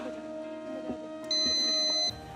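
Quiz show buzzer pressed during a Ramadan quiz competition, a single loud, steady electronic tone lasting under a second over faint studio background hum.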